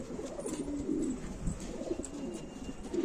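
Soft, low pigeon cooing repeats in short murmuring phrases, close by against a quiet background.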